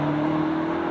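A 2020 BMW M8 Competition's exhaust crackles and pops as the car works back through the gears, a loud, close engine drone with a steady tone and no voices.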